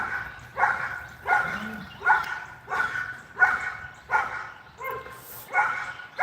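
A small dog barks repeatedly outdoors on a morning walk, about eight evenly spaced barks of moderate loudness at a steady rhythm, with no talk over them.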